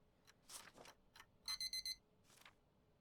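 End-of-workday timer alarm in the game Papers, Please: a bright electronic beeping in four rapid pulses, loud and clear, set between brief thuds and faint background noise.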